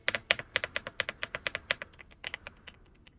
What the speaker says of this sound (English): I just like the creamy keyboards. They sound so nice.